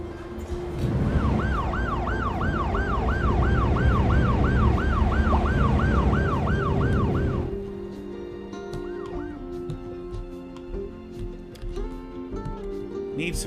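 An ambulance siren wails in the city-building game Cities Skylines 2, a loud, rapidly warbling tone over rumbling traffic that cuts off midway, leaving quieter street and vehicle noise.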